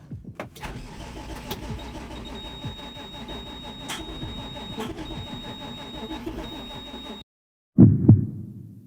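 A tractor engine in a field cranks and turns over after a repair, running steadily for several seconds before cutting out, followed by a short low rumble.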